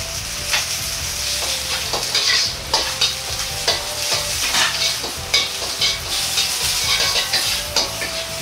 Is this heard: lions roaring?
no